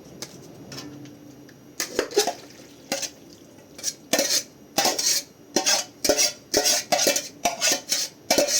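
A utensil stirring and mixing white sauce pasta ingredients in a pan, giving a run of rhythmic scraping clinks and clatters that grow busier and louder toward the end, with no talk.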